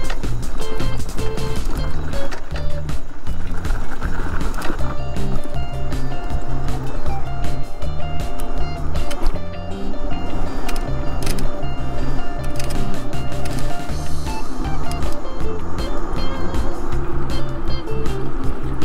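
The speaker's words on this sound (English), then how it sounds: "Lots of wind today." Strong, steady wind gusting across a lakeside campground at Kaw Lake, a loud continuous rush that buffets the microphone throughout with no pauses.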